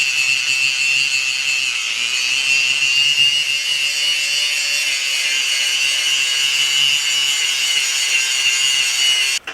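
A power saw cuts steadily through a piece of metal being trimmed to fit a plate in a blacksmith's shop, one loud continuous whine with a harsh hiss that holds throughout, no voices.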